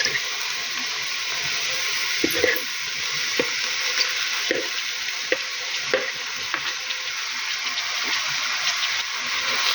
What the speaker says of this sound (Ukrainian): гарненько перемішаю тепер це все разом